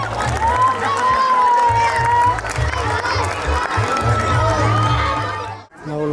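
A large rally crowd cheers and applauds to welcome Narendra Modi, a loud dense roar with shouts and a whistling tone, ending abruptly.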